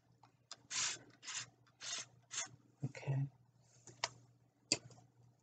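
Hands rub product into type 4 natural hair to loosen leftover residue, making several short, close, crisp rubbing bursts in an uneven rhythm, followed by a couple of sharp ticks against quiet background hum.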